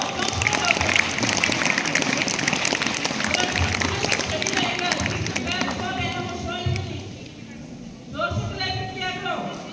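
Students at a school inter-house quiz clap in a burst of applause, loud and dense at first then thinning out, before a teacher's voice takes over and continues speaking.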